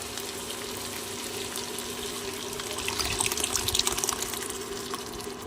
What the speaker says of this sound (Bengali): দিয়ে দিচ্ছি সিদ্ধ করা ডাল